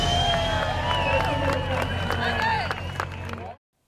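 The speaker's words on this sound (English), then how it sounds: "Round of applause right here." A crowd claps and cheers steadily for a few seconds before the noise cuts off abruptly.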